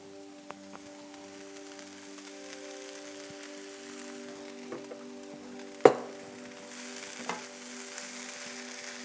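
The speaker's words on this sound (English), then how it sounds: "we're going to get the meat in now to cook with the rest of the veggies" Meat and vegetables frying in a big skillet, a quiet steady sizzle with a few clinks and scrapes of stirring, one sharper knock near the middle.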